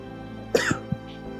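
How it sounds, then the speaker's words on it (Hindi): One sharp, close cough, followed by a couple of softer throat-clearing bursts against a quiet background hum. "कैसे खांसी उठ गई तुम्हारे को?"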